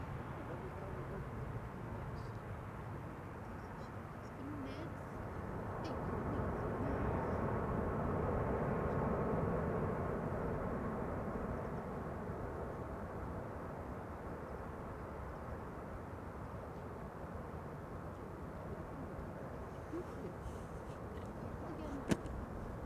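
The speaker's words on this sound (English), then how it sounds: "The A300 in the meantime has taken off from the center runway" An Airbus A300 airliner taking off from the center runway at Amsterdam Schiphol, a distant jet rumble that swells and fades under steady outdoor background noise, with a few faint clicks.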